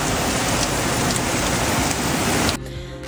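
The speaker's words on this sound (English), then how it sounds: "These rain bands are savage." Heavy rain from a storm's rain bands pours down in a dense, loud, continuous hiss, then cuts off abruptly near the end, leaving a quieter low rumble.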